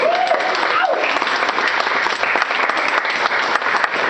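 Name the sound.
applause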